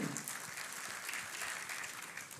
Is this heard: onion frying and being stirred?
no